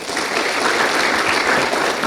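Dense, continuous applause from a crowd at a school launch event, loud and steady throughout the short stretch with no voices standing out.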